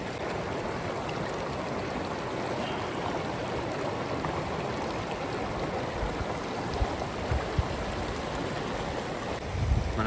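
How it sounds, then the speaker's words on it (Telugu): A Himalayan mountain stream rushes past a bank lined with pine trees on the Dirang to Tawang route, producing a steady, dense roar of flowing water that holds constant throughout. "మనం స్ట్రీమ్కి ఇటు సైడ్ ఉన్నాము,"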